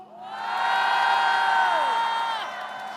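A crowd cheers and whoops in sustained, loud, drawn-out shouts that swell and then fade over a few seconds, with an audience at an event voicing support for the families and friends of the Itaewon victims.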